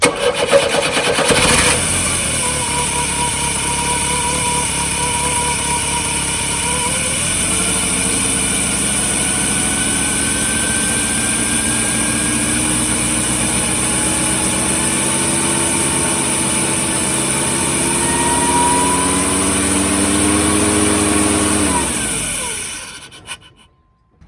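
A 1986 Chevy S10 Blazer engine runs with a rough, uneven idle for about twenty seconds, loud and close, with pitch drifting up and down before it cuts off at the end.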